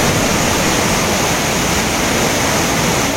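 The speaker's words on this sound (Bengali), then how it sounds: "এই জলপ্রপাতের টোটাল উচ্চতা 144 ফুট" A 144-foot waterfall in the hills near Ranchi, with heavy water pouring down over slippery rocks, making a loud, steady, full roar that stays constant throughout without any voices.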